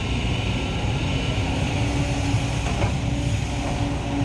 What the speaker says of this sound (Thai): สำหรับการขุดสระนะครับแนวสโลปสวยๆของรถขุดโกเบโก SK 200